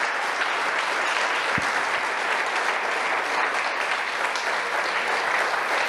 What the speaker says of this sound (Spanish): Le damos el aplauso al Eterno